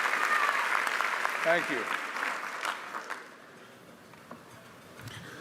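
Applause from the audience at a Temple University College of Engineering graduation ceremony, strong clapping that gradually thins and fades, with a brief spoken thanks over it.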